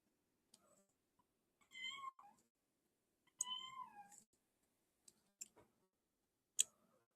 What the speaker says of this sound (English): One of the cats is being talkative right now.